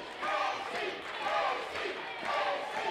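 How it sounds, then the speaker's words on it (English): A wrestling crowd at an independent pro wrestling rumble match roars and cheers in swelling waves, rising and falling about three times, with loud voices blending into a broad, sustained din. "Crowd's behind him still."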